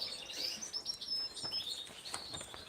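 Green Gloster canaries chirp and tweet in quick high trills and short calls, several birds overlapping at a moderate distance in an aviary, with no voices.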